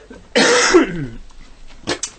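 A single harsh, loud cough burst, followed by a couple of fainter short coughs or throat sounds trailing off.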